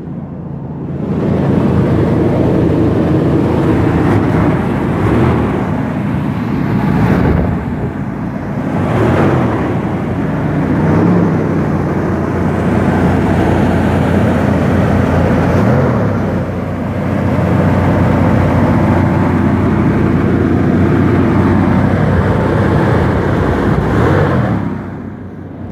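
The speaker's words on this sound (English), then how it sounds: "I'll pump the gas up and then we'll try to start it." A 1991 Chevy Silverado 2500 with a 350 V8 and stock exhaust, started cold and left running: a loud, steady engine rumble close by, with a few swells and revs, and no talk over it.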